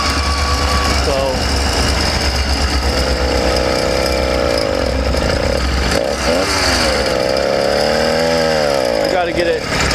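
A Yamaha YD100 motorcycle engine with a poorly tuned carburetor runs while warming up, a loud continuous buzzing drone with shifting pitch throughout, close by; a person talks over it.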